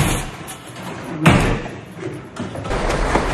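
A stuck door is struggled with in a confined underground bunker, giving one heavy thud midway amid scraping and knocking, loud and close, with no clear speech.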